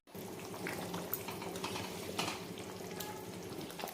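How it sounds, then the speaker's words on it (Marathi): Mutton masala curry sizzling and bubbling in a cooker as a little water is poured in to rinse it, a steady close frying hiss with soft stirring and liquid splashes throughout. "थोडंसं मी कुकरमध्ये पाणी टाकून विसळून टाकते याच्यामध्ये."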